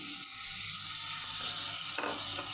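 Chicken pieces hit a hot pan and sizzle loudly and steadily, with a broad frying hiss and a brief stirring clatter near the end, close up and with no talking.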